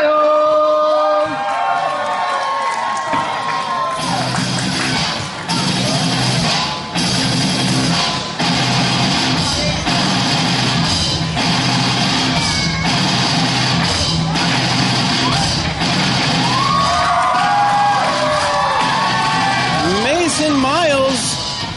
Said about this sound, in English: firing up this crowd as usual